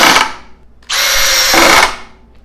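A Makita drill on clutch setting 3 drives a long screw into wood: a short whir, a pause, then a sustained high-pitched motor whine of about a second that cuts off cleanly, loud and close.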